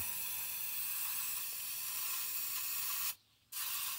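Continuous hiss of an aerosol can spraying close by, steady and bright, stopping briefly for a moment before resuming, during rear differential cover work on a 2003 GMC Sierra 1500.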